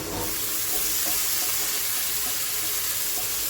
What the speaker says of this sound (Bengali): আলুটাও সুন্দর করে ভেজে নেব।